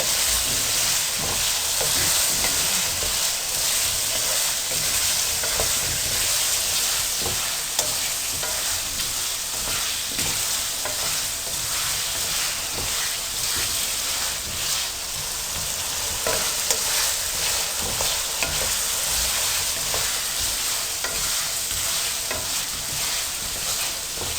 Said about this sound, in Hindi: एक मिनट के लिए मैंने आलू को भूना।